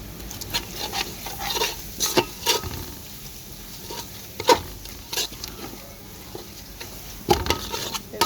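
Chili powder, garam masala and cumin fry in hot oil for a beef bhuna, with a steady soft sizzle broken by sharp scraping clatters of a spoon stirring against the pan.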